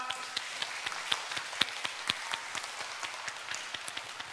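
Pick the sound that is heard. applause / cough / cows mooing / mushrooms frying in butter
applause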